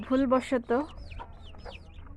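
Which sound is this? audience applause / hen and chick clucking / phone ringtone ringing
hen and chick clucking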